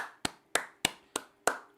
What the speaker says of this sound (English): I think we should give up a round of applause